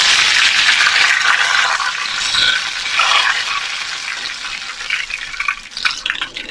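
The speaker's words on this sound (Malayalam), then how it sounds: "കുറച്ച് കറിവേപ്പില അതിലേക്കിടാം" Curry leaves dropped into hot oil with already-popped mustard seeds for a Kerala-style banana stem and bean stir fry, giving a loud, steady sizzling crackle that wavers and spits throughout, with no talking.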